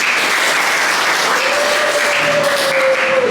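Classroom audience clapping for a student, a dense steady patter of many hands filling the room throughout, with a faint sustained tone running under it.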